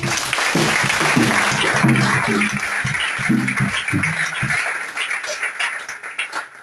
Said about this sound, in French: Et on peut acclamer le Seigneur pour ça.